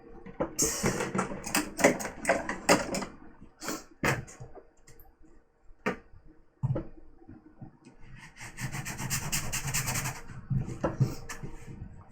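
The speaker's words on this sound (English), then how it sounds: "this is a blunt pipe that I'm drilling towards my vent" A drill grinds steadily through a metal pipe in long rasping bursts, pausing briefly between runs, loud and close with scraping metallic texture.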